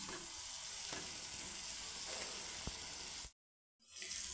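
Okra frying in onion masala in a pan gives a continuous soft sizzle with a few light clinks and a faint stirring scrape, then a brief total silence before the sizzle returns.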